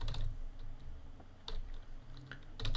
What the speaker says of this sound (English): I'm gonna comment it by clicking Control and slash on my keyboard